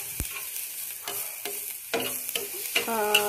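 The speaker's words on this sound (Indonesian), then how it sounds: "ini bawang putihnya di tumis ya sampai kecoklatan ya" Garlic sautéing in oil in a pan until browned: a soft sizzle with scattered stirring scrapes and clinks of a utensil against the pan, no talk.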